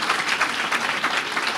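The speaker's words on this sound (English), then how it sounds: "Are you clapping for that?" A church congregation applauds with steady, dense clapping, many hands together at close range, filling the short moment without talk.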